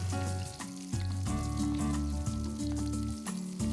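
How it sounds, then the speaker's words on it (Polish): Steady sizzling and crackling of sliced vegetables frying in leftover fat in a pot, with soft background music playing throughout. "Teraz kroję warzywa w plastry i obsmażam je na pozostałym w garnku tłuszczu."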